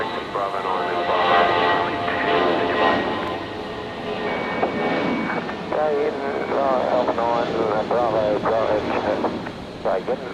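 A Jetstar jet departs from runway 19 left at Brisbane Airport at night. A broad, sustained engine roar rumbles beneath voices talking over the radio.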